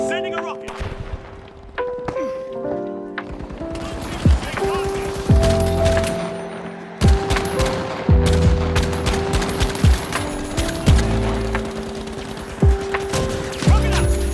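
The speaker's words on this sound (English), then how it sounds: "Sending a rocket." Rocket launcher fire and blasts in The Finals video game, repeated sharp booms with bursts of gunfire amid game music, loud and close, with talk over parts of it.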